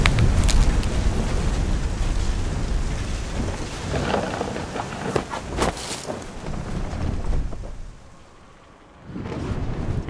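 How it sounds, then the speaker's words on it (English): Thunder and heavy rain in What Remains of Edith Finch, with deep rolling rumbles over a steady downpour, loud and close, briefly dipping quieter before the storm noise returns. "The thunder sounded much too close and full of angry power"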